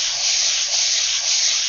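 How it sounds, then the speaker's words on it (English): Paper being sanded by steady rubbing while making a grungy mixed media tag, a loud, continuous close-up scratchy hiss that swells slightly with each stroke and carries on alone without pause. "So I'm just going to keep rubbing and rubbing and rubbing."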